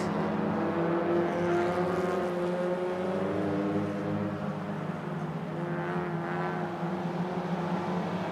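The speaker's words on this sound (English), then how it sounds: "We see more cars beginning to leave the pit." Race cars leave the pit during a Malaysia Championship Series race, a steady, loud drone of several engines humming together throughout, with no clear pass-by peaks.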